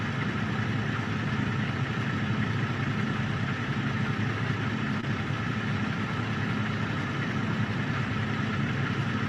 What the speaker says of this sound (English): You hear my truck idling in the background